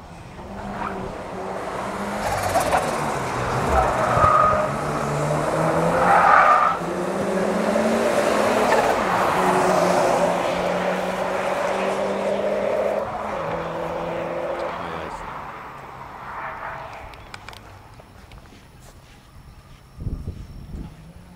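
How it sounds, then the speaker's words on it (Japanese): A 300 hp custom Subaru BRZ pushed hard on a test drive, its engine roaring steadily for about fifteen seconds with tire squeal, then the revs easing off and fading, with a faint voice at the end. "じゃあちょっとその300馬力を実際に走行チェックお願いできますか"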